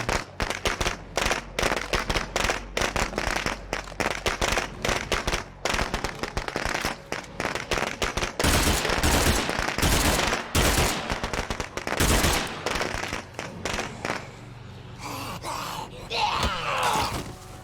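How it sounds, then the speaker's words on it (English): Gunfire in a video game rattles almost nonstop in rapid dense bursts, loud and harsh, easing off toward the end with brief scattered bangs and softer game noise. "I'm just gonna blast them with the gun."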